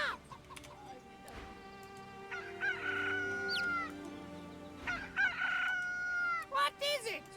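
The magic cockerel Peeper in the video game Divinity 2 crows with a long rising cock-a-doodle-doo, then crows again and clucks. Faint game voices and ambience sit underneath.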